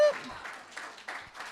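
Church congregation at a Sunday service claps in faint scattered bursts, a few separate hand claps rising and falling quietly at some distance.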